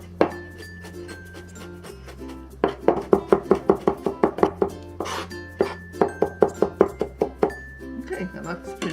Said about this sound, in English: with just mincing the ginger and garlic